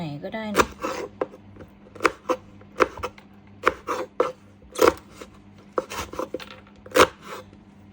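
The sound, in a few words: cutting blanched roselle into pieces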